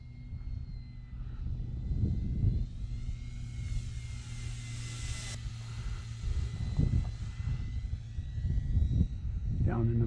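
A Timber EVO radio-controlled model airplane flies at a park, its engine droning steadily with a rise and fall in pitch as it passes, while someone talks intermittently over the sound.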